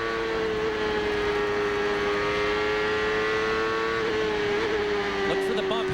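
A Cosworth-engined CART race car at Nazareth in 1999 screaming at high revs past 15,000 RPM, a steady piercing whine held almost unbroken, loud and close, with a slight wobble near the end.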